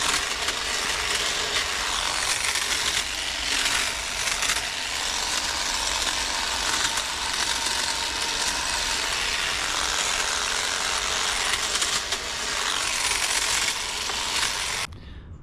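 Milwaukee M18 cordless hedge trimmer pruning a shrub, a loud steady buzzing drone with rapid clattering blade chatter running unbroken for about fifteen seconds, then cutting off at the end.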